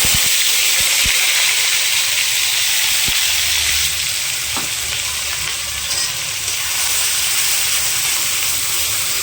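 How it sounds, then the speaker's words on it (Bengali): Ground onion paste sizzles loudly as it hits hot oil with five-spice seeds in a pan, a steady bright hiss filling the whole stretch with a few faint clinks from stirring. "এর মধ্যে দিয়ে দেবো বেটে রাখা পেঁয়াজ"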